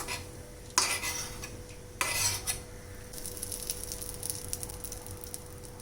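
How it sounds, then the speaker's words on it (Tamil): Roasted cashew nuts spooned from a pan onto a plate: two sharp metallic scrapes and clatters of a spoon, followed by lighter rustling and clinking, close and quiet. "இந்த முந்திரி பருப்பை இந்த பிளேட்டுக்கு எடுத்து வச்சுக்கலாம்"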